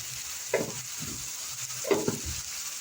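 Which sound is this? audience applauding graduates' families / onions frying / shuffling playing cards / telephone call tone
onions frying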